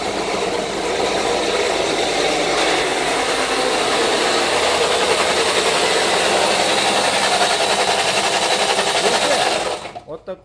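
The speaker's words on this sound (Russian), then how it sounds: "Запускаем движок." A Toyota Fielder engine with a suspected damaged damper disc runs loud and close with a busy mechanical rattle throughout, a voice speaking over it, before the sound drops off near the end.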